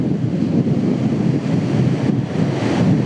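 A rough sea on the Brittany coast roars with breaking waves and gusting wind, a loud, continuous wash buffeting close to the microphone, with no voices.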